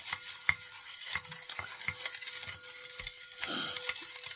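Tarot cards are shuffled by hand in soft, quick riffles and taps, fairly quiet and close, with a brief denser rustle near the end.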